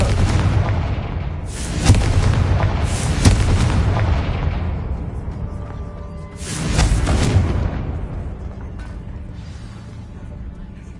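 Confringo blasting spell explosions in the Hogwarts Legacy video game: loud booming blasts with sharp cracks, two clustered near the start and another burst midway, each followed by a fading rumble.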